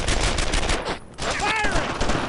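Gunfire in the World War II video game Brothers in Arms: Earned in Blood, loud close rifle and machine-gun fire crackling almost nonstop, with a brief lull and a whistling sound.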